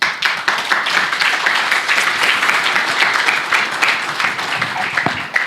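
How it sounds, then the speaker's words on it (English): Audience applause at a business presentation, a steady dense wash of clapping from a crowd, moderately loud and sustained with little talk over it. "Wow, the first clap we've had."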